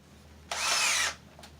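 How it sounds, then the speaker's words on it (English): A power drill boring a hole in the case of a Sony CDP-C705 CD player: one short, loud, high whir of about half a second, close by, then a faint brief second touch. "So we're going to drill a hole."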